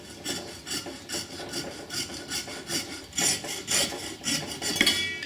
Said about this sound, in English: Now I'll trim it down a little more with the hacksaw.